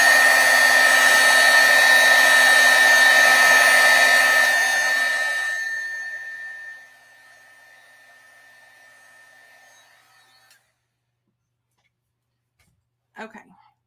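Hair dryer drying ink on a stamped card: a loud steady blowing roar for about six seconds, then it fades out as it winds down, followed by near silence and a small click at the end.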